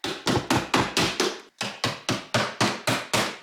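A chisel prying apart the plastic case of a ReliBatt 12V 100Ah self-heating LiFePO4 battery gives a steady run of about a dozen sharp, close knocks in even rhythm, with one brief pause midway.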